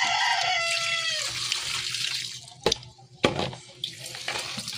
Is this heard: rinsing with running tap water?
yes